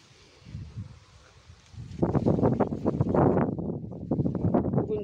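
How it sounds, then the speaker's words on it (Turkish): Wind blowing outdoors in a garden, gusting into the microphone as soft low rumbling buffets that grow louder and more continuous partway through. "Bugün de iyi rüzgar esiyor yine."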